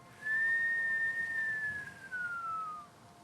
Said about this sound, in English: Inhale as a whistle.